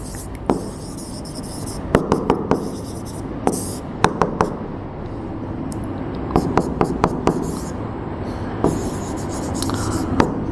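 A pen writes out an answer to a coordinate geometry exercise, making close scratchy strokes on paper with sharp taps between words, over a low steady room hum.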